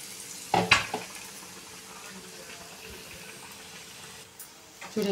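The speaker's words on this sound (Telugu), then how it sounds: "ఎందుకంటే కోడిగుడ్డు కదా లోపల పగులుతుంటుంది పటపట అని" An egg fries in hot oil with a soft steady sizzle, broken by a few sharp crackling pops near the start and again at the end.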